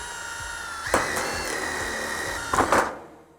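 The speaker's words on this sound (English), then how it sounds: "Go ahead and put a rivet through." A rivet is set through several layers of metal roofing panel, with a close, loud whirring power tool running steadily and two sharper bursts of grinding as it bites through the metal before winding down.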